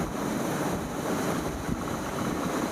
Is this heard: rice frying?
no